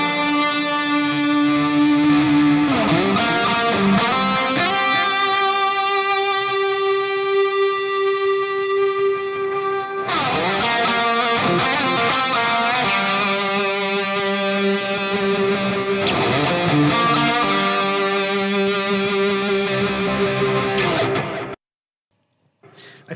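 Electric guitar played through a Fractal FM3 with a large cavern reverb, sustained distorted chords ringing in long washes, restarting a few times and ending in a sudden cutoff, loud and alone.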